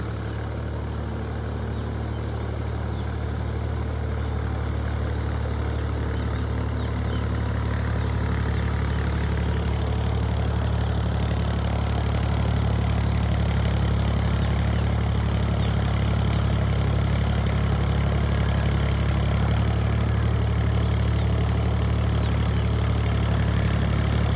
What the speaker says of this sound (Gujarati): 39 HPનું ટ્રેક્ટર છે।